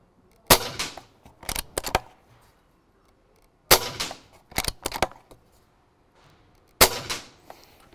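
A bullpup PCP air rifle is cocked and fired at close range, giving three loud sharp cracks spaced a few seconds apart, each followed by a quick run of metallic clicks and clacks from the cocking mechanism.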